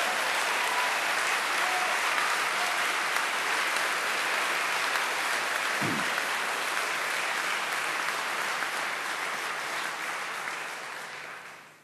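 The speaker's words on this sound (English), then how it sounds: "I think we give them a clap." A large audience at a 2009 evangelistic rally in Scotland claps for visitors in a dense, steady wash of applause that holds for about ten seconds before tapering off at the end.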